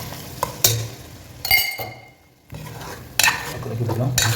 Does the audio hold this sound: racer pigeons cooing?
no